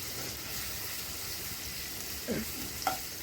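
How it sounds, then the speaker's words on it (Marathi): Ginger-garlic paste sautés in a pan for a spicy dry soybean curry, giving a steady close sizzle. Two brief scraping stirs are heard near the end. "अद्रक लसूणचा पेस्ट पण छान असा परतून घ्यायचा आहे, छान भाजून घ्यायचा आहे"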